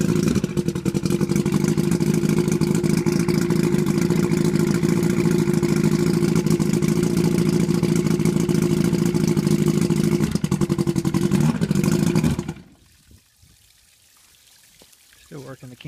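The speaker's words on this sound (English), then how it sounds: "here is the video from the first starting of the motor" The outboard motor of a restored vintage boat runs loud and close with a steady droning hum for about twelve seconds, then cuts out abruptly into near quiet.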